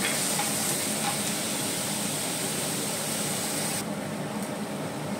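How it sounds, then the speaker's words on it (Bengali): Cumin seeds and dried red chillies sizzle in hot oil as a tempering for a Bengali dish. A steady, close hiss fills the whole stretch and eases slightly near the end. "আর এই যে আমি এখন জিরে আর শুকনো লঙ্কা দিয়ে দিচ্ছি এটার মধ্যে"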